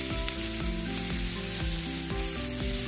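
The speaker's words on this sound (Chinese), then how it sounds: "热油泼一下" Hot oil poured over noodle seasonings of chili powder, sesame oil, scallions and sesame seeds, crackling and sizzling steadily and fairly quietly throughout, with no talking.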